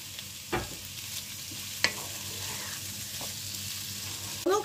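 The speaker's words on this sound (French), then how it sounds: "Pendant que le butternut mijote tranquillement avec l'échalote" Butternut squash and shallot cooking gently in a pan, a soft steady sizzle with a few sharper stirring scrapes and clinks, close and quiet, no one talking.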